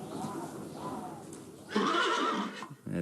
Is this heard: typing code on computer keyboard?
no